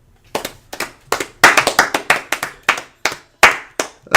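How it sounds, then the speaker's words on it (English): Loud hand claps ring out close to the microphone, a quick, irregular string of about sixteen sharp slaps, some bunched in fast pairs, each crisp and dry against an otherwise silent room. "I was just gonna clap really loud."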